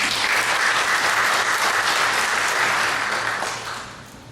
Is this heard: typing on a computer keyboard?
no